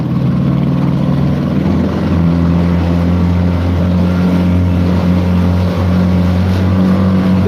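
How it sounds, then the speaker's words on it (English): A motorboat engine drones steadily close by on open water during an afternoon fishing outing, a low continuous hum with a slight rise in pitch as it moves. "There's a boat right just in here."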